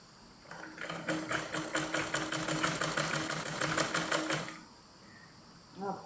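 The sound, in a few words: sewing machine stitching cloth with contrasting thread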